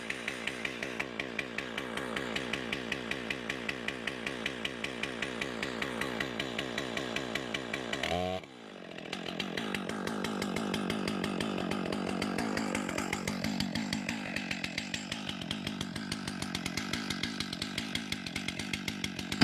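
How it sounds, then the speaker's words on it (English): A chainsaw idles on choke while its cylinder warms up, a loud, fast, rough two-stroke putter that briefly dips, then settles back into a steady run, with no talk. "It is important to let these saws warm up."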